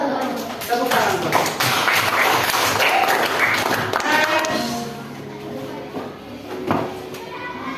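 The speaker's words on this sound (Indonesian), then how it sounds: "Tepuk tangan Pak." Classroom children clapping their hands together in a short burst of applause, with lively chatter from pupils and a teacher talking over and around it.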